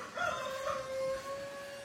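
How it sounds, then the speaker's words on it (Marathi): An American-breed rooster crows once in a long, drawn-out call, moderately distant and fairly faint over light background noise, with no talking. "कोंबडो थंय आराडता."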